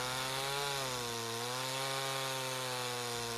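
An Echo CS-310 chainsaw fitted with an Oregon chain cuts through small softwood, giving a steady, buzzing whine with rich harmonics that dips slightly in pitch under load, heard alone and fairly faint.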